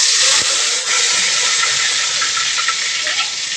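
Curry leaves dropped into hot oil with mustard seeds give a loud, bright, hissing sizzle, close up and steady for a few seconds with no voices.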